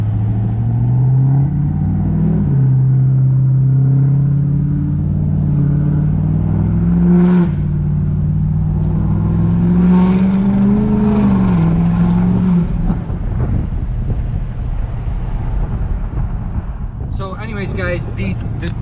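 An L5P Duramax diesel pickup with a Cognito lift pulls away and cruises, its engine drone steady and loud with a rising, shifting pitch, heard from inside the cab with a voice talking over it.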